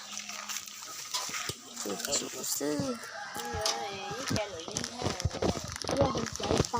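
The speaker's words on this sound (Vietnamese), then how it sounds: "gà đấy rồi" Chickens cluck and a rooster crows in a rural farmyard, close and lively, mixed with people talking throughout and other background animal noise.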